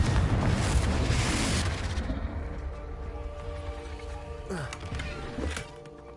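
A fiery Confringo spell blast in Hogwarts Legacy bursts loudly at the start, then its rumble fades into quieter game ambience and tonal background sound.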